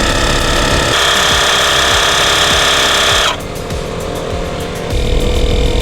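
A Lasfit portable tire inflator runs loud and close while pumping up a car tire, a buzzy mechanical drone with rapid pulsing that drops in pitch and level partway through, then swells again near the end.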